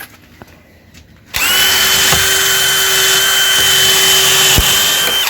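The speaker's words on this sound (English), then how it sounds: "We're going to pre-drill right behind this weather strip." After a quiet moment, a power drill starts abruptly and whines loudly and steadily at close range for several seconds, pre-drilling an exterior door jamb.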